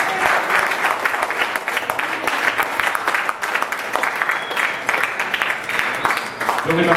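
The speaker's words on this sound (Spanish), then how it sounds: "Denle un fuerte aplauso al Señor." Sustained applause from a large church congregation, loud and steady throughout, with dense clapping filling the space and a few voices mixed in.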